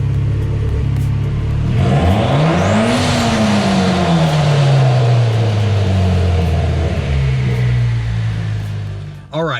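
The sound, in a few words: Mitsubishi Evo X engine revving with GFB blow-off valve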